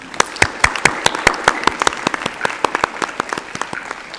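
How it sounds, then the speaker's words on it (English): Applause from the audience at a primary school mental maths competition, a short burst of loud, dense clapping with a few sharp individual claps standing out. "You can clap for that."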